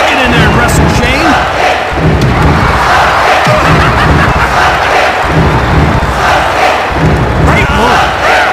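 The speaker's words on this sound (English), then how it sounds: "This crowd is going berserk." A loud, dense wrestling arena crowd roars and cheers continuously in the WWF Attitude video game on Dreamcast, with thumps and shouts mixed through the din.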